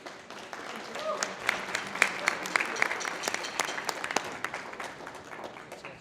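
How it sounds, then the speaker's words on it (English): A high school band concert audience applauding with scattered claps, moderately loud, while some voices can be heard over the clapping. "can we give the audience a round of applause?"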